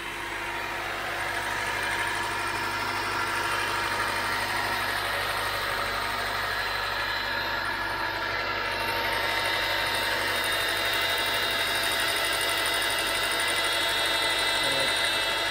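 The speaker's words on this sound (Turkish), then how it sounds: "Motor da biraz ısınsın." Steady, unbroken idle of a Honda Accord's K24 engine warming up, a close low hum with even mechanical whirring throughout.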